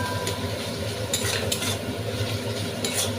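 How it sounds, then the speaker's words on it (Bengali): Tomato and spices being stirred and mashed with a spatula in a frying pan, a steady close sizzle under repeated scraping and clinking of metal on the pan, with no one speaking. "এইভাবে নাড়াচাড়া দিয়ে টমেটোটা পুরো আমি মশলাটার সঙ্গে একদম দেখো এবং খুন্তি দিয়ে একটু একদম ঘেটে ঘেটে দেব"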